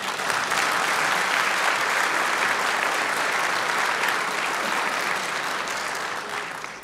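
Sustained, dense applause from a large audience at a Kulturbund address in the GDR. It is steady and full throughout and tapers slightly at the end.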